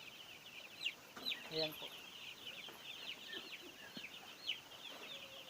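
Three-day-old chicks in a wrapped coop give faint, high, scattered peeps and chirps, with a few louder bursts, while a person speaks briefly nearby.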